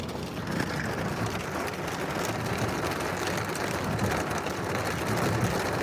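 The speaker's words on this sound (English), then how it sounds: "Got some small hail." Small hail falling with heavy rain during a storm chase, a steady dense patter and hiss that stays even and fairly loud throughout, with no voices.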